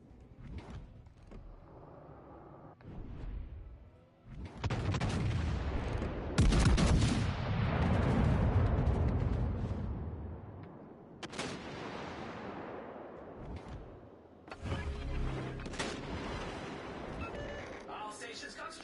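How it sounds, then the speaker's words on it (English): Warship guns boom in World of Warships Legends in heavy, rumbling salvos that swell and fade, mixed with game announcer callouts and a player talking in between. "All stations concentrate fire on the target."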